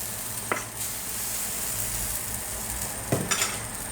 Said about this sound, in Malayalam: 2 തവി മാവ് ഒഴിച്ച് കൊടുക്കുക